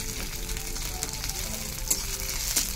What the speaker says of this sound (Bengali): নিচে যাওয়া তেলে অ্যাড করছি ক্যাপসিকাম কুচি, অল্প একটুখানি আদা বাটা